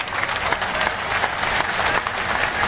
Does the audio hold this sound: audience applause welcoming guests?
yes